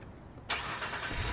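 A car engine in the video game Watch Dogs turns over and catches, a broad burst rising suddenly from quiet and settling into a steady running rumble, close and moderately loud with no talk.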